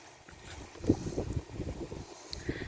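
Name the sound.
strong wind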